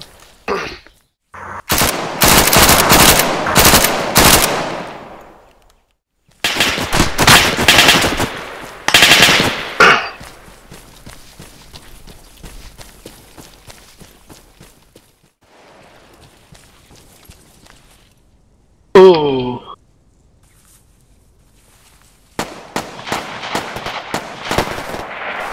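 Machine gun fire in the military shooter Arma 3, loud close bursts of rapid automatic shots separated by quieter gaps, a sharp whooshing sound partway through, then another burst at the end.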